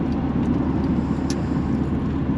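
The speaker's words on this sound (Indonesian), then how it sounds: "dari tadi truk-truk ngebut-ngebut ya di sini" Trucks speeding along a road on Indonesia's southern route near Nagreg, heard as a steady, loud roar of passing engines and tire rumble with no pauses.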